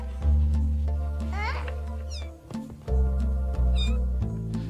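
Six-week-old kittens give several short, high, rising meows over a low background hum, with a voice speaking briefly among them.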